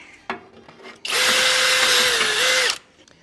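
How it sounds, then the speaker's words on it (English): A small 7/8 inch sanding barrel on a power tool smooths metal on a 1958 Willys DJ-3A front end, a loud, steady high whine of about a second and a half, close by, with a few brief taps before it. "Then use a little sanding barrel sander, 7/8 inch. Smooth that out a little bit."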